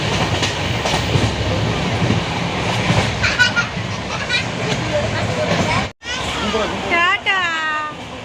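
A passenger train runs along the tracks on the way toward NJP station, its steady rumble and rhythmic wheel clatter close by, with a horn-like tonal burst near the end and voices murmuring underneath.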